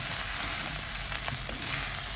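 Rice with salted fish sizzles steadily as it is stir-fried in a pan, a loud continuous frying hiss with faint scraping stirs, no voices.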